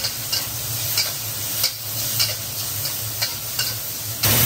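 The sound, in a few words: stir-frying squid with ginger, chili and garlic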